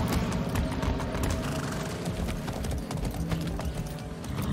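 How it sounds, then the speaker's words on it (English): Horse hooves clip-clop steadily in Far Cry 6, a continuous run of close, even hoofbeats with no one talking. "That's a good horse."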